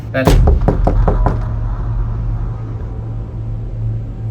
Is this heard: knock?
yes